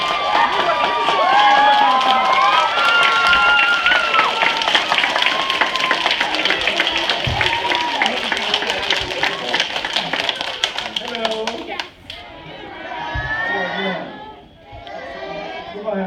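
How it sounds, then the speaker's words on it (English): Crowd at an event greeting former Green Bay Packers player LeRoy Butler with sustained applause and cheering, dense clapping under a speaking voice, then fading into scattered claps near the end. "Please give me a big round of applause for LeRoy Butler."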